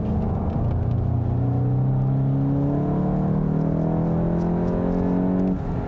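A 2022 Volkswagen GTI hot hatch accelerates hard, its engine note climbing steadily in pitch through a long, loud, continuous pull with no talking.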